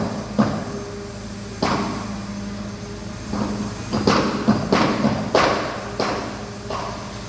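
Workers pound on a boat hull in a Panama boatyard during a haul-out, a series of loud, uneven thumps and hammer-like knocks, some single and some in quick clusters, ringing out against steady background hum with no talk.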